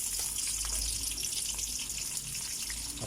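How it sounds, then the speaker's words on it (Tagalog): Garlic and onion sautéing in a pan for ginisang bagoong give a steady, close hiss that holds evenly throughout with no pauses. "gigisa na natin itong bawang at sibuyas"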